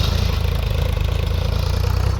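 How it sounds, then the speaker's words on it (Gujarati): A heavy diesel engine chugs steadily nearby with a rapid, even throb, loud and continuous with no voices. "ટ્રેક્ટર ખોરવાનું કામ કરી રહી છે"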